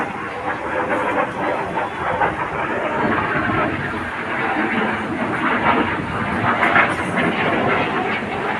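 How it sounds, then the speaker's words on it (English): Display jets pass each other in a double roll manoeuvre at an airshow, a loud sustained roar of jet engines filling the whole span with slowly swelling rumble. "They look to pass each other with only 30 metres, that's only 100 feet between wingtips to wingtips, in a manoeuvre called the double roll"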